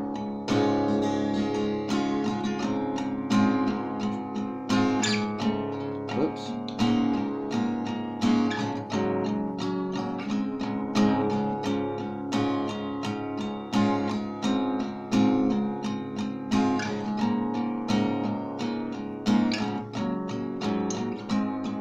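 Acoustic guitar strummed steadily through the outro of a song, with rhythmic chords played alone at an even, fairly loud level and no voice over it.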